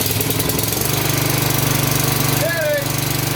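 A Honda HRX 217 lawn mower engine runs on full choke just after starting, a loud, close, rapid chugging that keeps a steady rhythm throughout, with a voice speaking briefly over it near the end.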